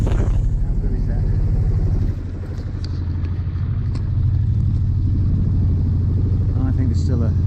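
A sailboat's inboard engine runs at full throttle with both sails up, a steady loud droning rumble that dips briefly midway, with someone talking over it.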